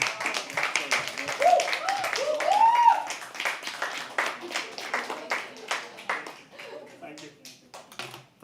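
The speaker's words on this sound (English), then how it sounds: "Can we please have a round of applause for him?" Audience clapping at a live poetry open mic, a room of hands applauding while a host's voice speaks over it, the claps thinning toward the end.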